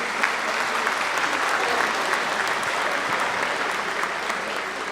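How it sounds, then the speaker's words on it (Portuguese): Sustained applause fills a hall at a formal solemn session honoring award recipients, dense clapping from many hands held at an even level for several seconds. "Uma salva de palmas dos agraciados."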